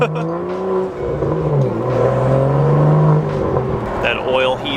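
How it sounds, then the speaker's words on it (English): BMW M2 engine rumbling close by with a low, shifting revving tone that rises and falls, while someone talks over it. "Dang, this car sounds crazy, bro."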